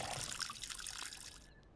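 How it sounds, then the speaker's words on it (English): Water rushes steadily into a watering can being refilled in the video game Schedule 1, a continuous close hiss and trickle that cuts off abruptly near the end. "Click and hold tab to refill watering can."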